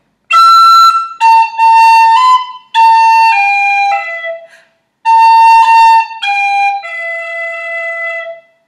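A whistle plays the whole phrase of Scatter The Mud twice over, crisp tongued notes in quick groups separated by a short breath pause, near and strong, with no speech.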